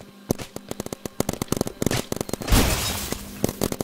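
Paintball guns firing in the Big Paintball video game, a rapid run of sharp single pops from close by, then a louder burst of overlapping shots mid-clip, with nobody talking.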